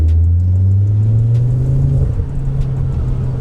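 Decatted car engine and exhaust holding a loud, steady low drone that rises slightly in pitch before easing back, a continuous close rumble with no talk over it.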